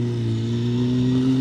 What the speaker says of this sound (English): Bit of less throttle next time, Harley.